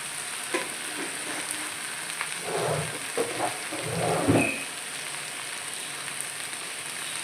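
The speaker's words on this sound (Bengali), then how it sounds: "কসুরি মেথিটাকে দিয়ে ভালো করে আগে সটে করে নিতে হবে।" Kasuri methi sautéing with mushrooms and vegetables in a pan, a continuous loud sizzle with a few stirring scrapes swelling midway.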